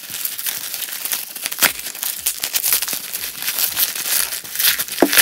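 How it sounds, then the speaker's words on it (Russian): Plastic packaging is torn open by hand, giving a close, continuous crackling and crinkling with sharper ripping bursts throughout. "поэтому пытаемся разорвать упаковку"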